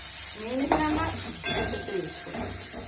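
Onions frying in white oil for chicken biryani give a steady close sizzle, with occasional metallic clinks of a utensil stirring in the pan.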